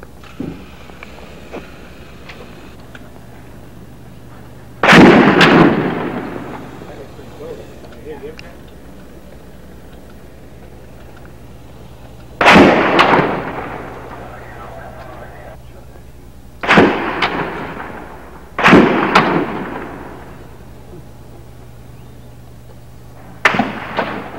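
Gunfire from a sniper in a tower during the Texas tower shootings. Single loud, sharp shots crack out several seconds apart against a steady background hum, each followed by a brief echoing tail.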